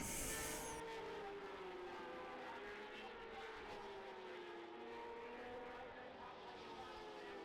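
Race cars at Brands Hatch roar around the track, engine notes rising and falling as cars sweep past at a steady distance, with no talking.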